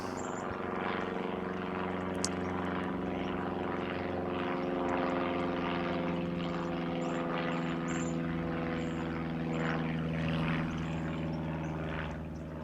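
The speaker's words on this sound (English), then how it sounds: "Ah, there's a plane." A propeller airplane drones overhead above chaparral and sage scrub, a steady distant hum that swells slightly and fades, with faint birdsong on top.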